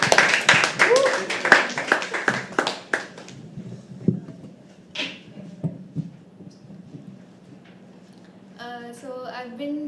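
Applause from an open mic poetry audience at The Habitat: a burst of loud, rapid hand claps that thins to scattered claps, with a voice speaking over it and a few musical notes near the end.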